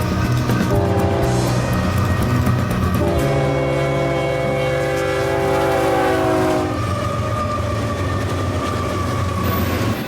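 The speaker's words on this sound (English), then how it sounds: "Just after 211 left its post at the west end of the siding, the hotshot rolled by." An eastbound intermodal hotshot freight train rolls steadily past a siding, its loud continuous rumble of wagons joined by a sustained multi-tone horn blast through the middle, with no talking.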